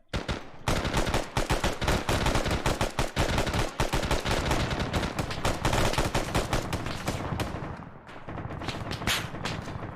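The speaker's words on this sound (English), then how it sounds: "Opening fire." Dense, continuous bursts of automatic gunfire from the military video game Arma, loud and close, with rapid overlapping shots throughout that ease slightly near the end.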